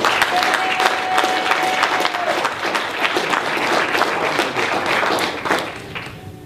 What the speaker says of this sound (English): give a strong round of applause